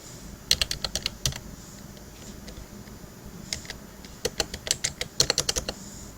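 Typing on a computer keyboard during an ITQ exam exercise: quick clustered bursts of crisp key clicks separated by short pauses, close and clear over a faint room hum, no talking.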